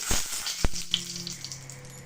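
Cumin and dried red chillies tempering in hot oil with mustard seeds for a beetroot sambar, giving a soft steady sizzle with a sharp pop near the start, close and alone.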